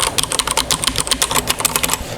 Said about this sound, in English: I'm pressing pretty hard right now.